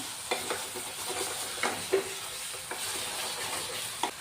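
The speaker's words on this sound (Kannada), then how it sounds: "ನೋಡಿ ಈ ಥರ ಫ್ರೈ ಮಾಡ್ಕೊಂಡಿದ್ದಾಗಿದ್ದ ತಕ್ಷಣ ಈ ಪೂರ್ತಿಯಾಗಿ ಮಸಾಲೆ ಚೆನ್ನಾಗಿ ಫ್ರೈ ಆಗಿದೆ" Masala mixed with curd frying in a pan for palak paneer, a steady soft sizzle with a few sharp stirring scrapes and clicks of a spoon against the pan, no voices.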